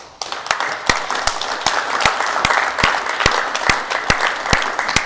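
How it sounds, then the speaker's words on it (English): Sustained audience applause after an evening talk at a public forum, dense and steady clapping from a full room with sharper individual claps standing out throughout, fairly close and loud. "Let's give him one more round of applause."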